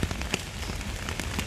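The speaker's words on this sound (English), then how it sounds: "it's raining so hard it glitched my camera" Heavy rain falling hard outside makes a dense, loud, continuous roar of drops with scattered sharper taps mixed through it, steady and close for the whole short stretch, with no voices.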